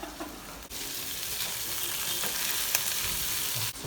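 Shrimp seasoned with salt and pepper frying in a pan, a loud steady close sizzle with a couple of brief clatters from flipping, no voices.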